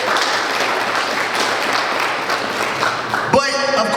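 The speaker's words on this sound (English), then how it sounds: "Y'all give a big round of applause for that." An audience at a KY track team brunch claps in a dense, steady round of applause for about three seconds, and then a voice cuts in over the fading clapping.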